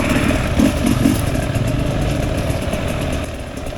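A Sherco motorcycle engine runs steadily and loud up close, revving through its exhaust pipe with a dense, continuous throaty drone and a few brief pulses early on before easing slightly near the end.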